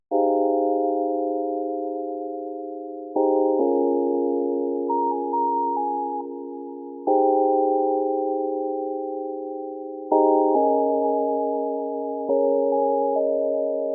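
A mellow lo-fi chord loop of soft, sustained synth-like tones made in FL Studio, changing chords every few seconds in a steady repeating cycle, with no drums or voices.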